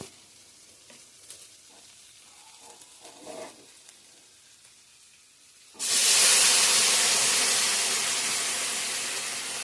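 Hot water poured into a frying egg curry sets off a sudden loud, steady sizzle and hiss from about six seconds in, after quieter cooking noises, and it stays strong to the end.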